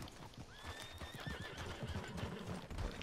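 A horse whinnies with a rising, wavering call over steady hoof clip-clops and busy outdoor game ambience in Red Dead Redemption 2, the neigh sitting near and clear in the middle of the clip.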